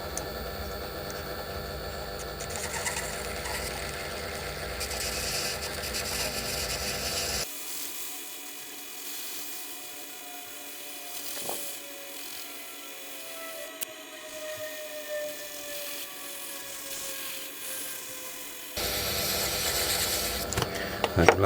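A metal lathe turns down a steel shaft for a Wurth disc pendulum, running with a steady mechanical hum and whine that drops to a thinner tone in the middle stretch before the fuller motor noise returns.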